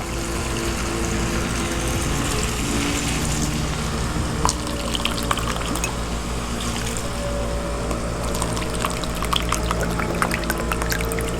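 A glass of water is poured into a pot of potato and eggplant curry, giving a sustained splashing pour and sizzle up close, with scattered clinks and no talk.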